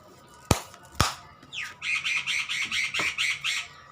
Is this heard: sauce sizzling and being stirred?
no